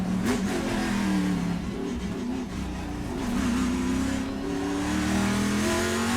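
TA2 race cars, including a Chevrolet Camaro, lap Laguna Seca in a Trans Am race, their engines roaring and revving continuously, with rising and falling pitch as they accelerate and shift, loud and close.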